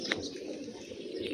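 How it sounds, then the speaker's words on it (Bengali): Pigeons in a loft coo softly on a hot, windless day, a faint, low, continuous murmur with a few light chirps. "কবুতরগুলা বসে আছে"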